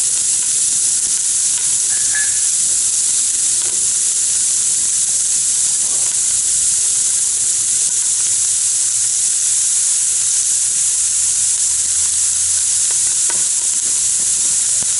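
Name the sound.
onions sizzling in a pressure cooker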